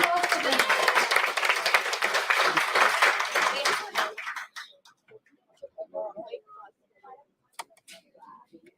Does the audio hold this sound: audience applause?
yes